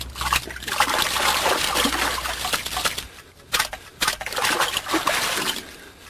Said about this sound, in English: I better wash my hands.